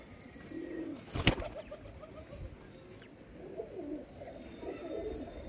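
A female pigeon in a loft cooing softly and intermittently, faint low coos spread through the stretch, with one sharp knock near the start.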